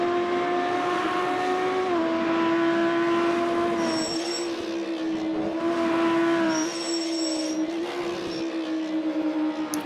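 GT3 race cars in a sim racing game at Silverstone run wide on a corner exit, engines droning loud and steady with rising whine as they accelerate, plus a brief high tire squeal mid-way.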